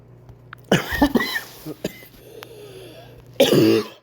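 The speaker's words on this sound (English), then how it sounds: "It's just a cough, not like COVID stuff." A person coughs several times in close, loud bursts, first a cluster of harsh coughs, then a pause with a few softer sounds, and a final hard cough.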